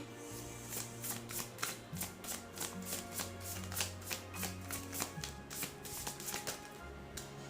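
A deck of oracle cards is shuffled close by in a fast run of crisp riffling taps, with soft background music underneath and no talking.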